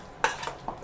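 Mushrooms and ginger slices are stirred for steamed chicken, making three light clinks and scrapes of a utensil against a dish over a soft background hiss, close by and without talk.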